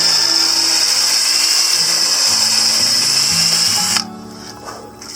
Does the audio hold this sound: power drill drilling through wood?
yes